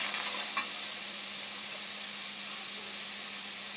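Tomato sautés and is stirred in a pan without oil for a South Indian dried anchovy curry, giving a steady close sizzle and hiss with a faint scrape of stirring.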